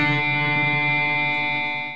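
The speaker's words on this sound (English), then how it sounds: "You have the minor third to the major third, which sounds like this." Electric guitar with effects and distortion plays a short interval moving from a minor third to a major third within a Pachelbel's Canon phrase, a sustained, ringing tone alone for two seconds.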